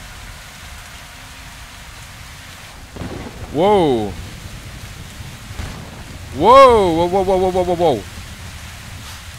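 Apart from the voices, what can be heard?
rain and wind storm in video game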